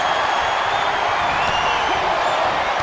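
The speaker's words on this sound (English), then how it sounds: "Listen to this crowd" Loud, dense arena crowd of wrestling fans cheering and roaring in WWE 2K24 during a War Games match, a steady wall of noise with no talk.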